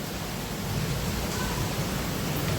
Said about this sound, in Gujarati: નકર તમે જોઈ લો ધોધ કેટલો પડે છે